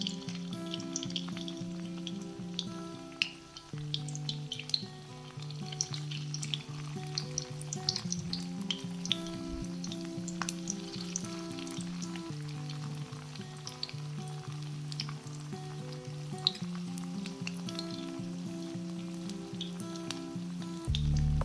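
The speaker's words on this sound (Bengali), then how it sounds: "তো তেলটা আমার গরম হয়ে তো এক এক করে আমি এখন ছেড়ে দেবো মাংসের কিমার পকোড়া" Chicken mince pakoras frying in hot oil give a steady, close, continuous sizzle and crackle with a constant low hum underneath, lasting without pause and with no talking.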